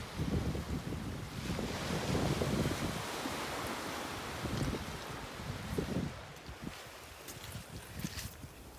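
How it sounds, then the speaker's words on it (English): Sea waves and wind roar on the coast at Newcastle, where the Mourne Mountains meet the sea: surf rumbles and wind buffets the microphone for several seconds, then ease slightly. "we're in Newcastle, where the mountains of Mourne meet the sea"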